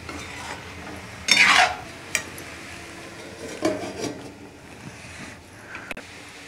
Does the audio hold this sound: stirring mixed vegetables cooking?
yes